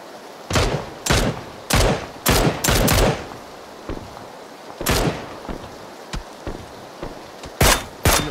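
Loud bursts of automatic gunfire in the video game PUBG come in quick, rattling volleys separated by short gaps, with a few fainter shots in between.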